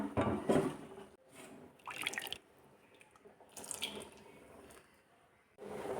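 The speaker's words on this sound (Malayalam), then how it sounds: "മിക്സിയുടെ ജാറിൽ കുറച്ച് വെള്ളം ഒഴിച്ച് ഒന്ന് കഴുകിയിട്ട് ഇതിലേക്ക് ഒഴിക്കാം" Water splashes and trickles in short bursts as it is poured from a mixer jar and swirled into a pot of chickpea curry, with pauses between pours; no voices.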